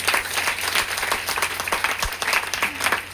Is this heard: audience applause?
yes